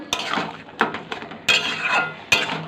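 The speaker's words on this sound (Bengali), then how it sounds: "পোস্তটাকে আমি ভালো করে নাড়াচাড়া নাড়াচাড়া করে নেব" Poppy seed paste is stirred in a metal pan while cooking, four sharp clinking scrapes of a spoon against the pan at irregular intervals, close and moderately loud with nothing else heard.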